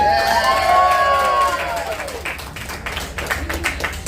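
A crowd of onlookers at an Everglades alligator show claps and cheers for a few seconds after a handler lifts a large gator, with a dense spread of hand claps and a few brief voices.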